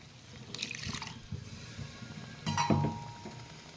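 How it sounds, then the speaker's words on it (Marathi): Water is poured into a cooking paneer masala in two short splashy bursts, with a faint clink and gentle bubbling between them. "यात आपल्याला पाणी टाकायचं आहे"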